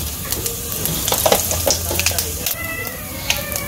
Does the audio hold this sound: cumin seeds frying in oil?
yes